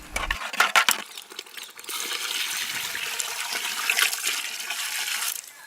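Water poured from a bowl into tamarind pulp in a pot and stirred for fish curry, a steady close pouring and sloshing stream after a few clinks at the start.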